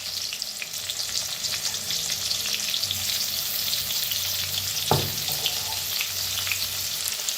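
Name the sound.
crushed garlic frying in hot oil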